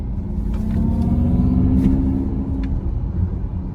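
A steady, synthetic-sounding engine hum with a low droning tone, holding level and smooth throughout with faint clicks on top.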